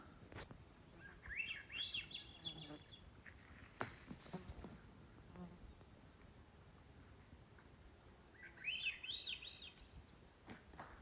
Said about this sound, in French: C'est la grive à dos olive.